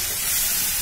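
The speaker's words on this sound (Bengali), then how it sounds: "1/2 বাটি মতন জল দিলাম।" About half a bowl of water poured into a hot fried spice mix in a pan, a brief loud steaming hiss.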